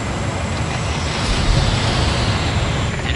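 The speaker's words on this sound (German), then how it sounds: "Helikopter am Anflug." A helicopter approaches in the video game Just Cause 3, a loud, steady broadband roar of engine and rotor wash that swells slightly mid-way and holds without speech.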